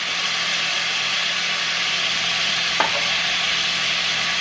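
Cabbage frying in a pan for an oxtail dish, a steady broad sizzle running the whole time with one brief scrape of a utensil partway through.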